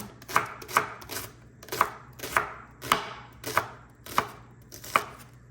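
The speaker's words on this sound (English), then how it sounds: "It doesn't have to be a very refined chop, just needs to get the job done." Rough chopping of vegetables for split pea soup: a knife strikes a cutting board in steady, evenly spaced chops, about nine crisp thuds at close range with no voices.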